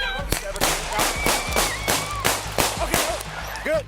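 Police officers fire a rapid series of about nine sharp, loud gunshots at an advancing knife-wielding suspect after a failed taser, evenly spaced within a few seconds, with a siren-like tone and muffled voices faintly underneath.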